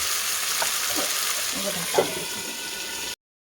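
Meat curry with jackfruit being stirred in a pan, a steady sizzling fry with a few soft scrapes of the spoon against the pan, close up, ending abruptly in silence.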